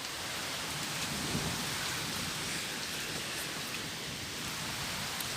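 Continuous heavy rain hisses evenly throughout a summer storm, with faint low thunder rumbling underneath.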